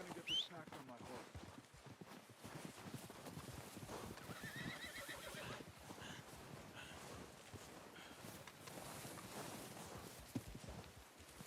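In Red Dead Redemption 2, a horse whinnies and snorts near the start, then hooves clip-clop in an uneven walking rhythm alongside game ambience and occasional speech.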